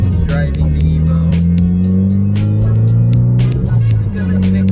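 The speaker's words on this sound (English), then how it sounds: "we are once again driving the Evo." A Mitsubishi Evo X with a turbo-back straight pipe drives along, its exhaust a loud, steady droning hum from inside the car that shifts pitch slightly as it picks up speed.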